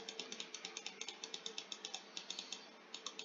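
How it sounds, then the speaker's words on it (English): Rapid mouse clicking during play in Roblox Fame Simulator, a steady stream of sharp, close clicks at an even fast rhythm over a faint background hum, with no talking. "It's a lot of clicking."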